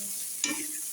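Rice with lots of garlic is stir-fried, giving a steady close sizzle and one quick scrape of the spatula through the pan.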